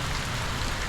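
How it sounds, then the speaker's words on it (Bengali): Heavy rain pours down steadily, a dense, continuous hiss of drops striking surfaces and pooled water, loud and unbroken with no voices. "খুবই জোর বৃষ্টি পড়ছে"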